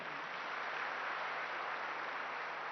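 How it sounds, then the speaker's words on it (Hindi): An audience at a spiritual talk applauds, a steady wash of clapping heard from a distance, even and sustained throughout without pauses. "ताली बजाओ।"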